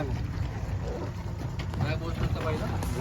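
A boat engine runs on a dam reservoir, a low rumbling drone under wind buffeting the microphone, while people talk over it close by.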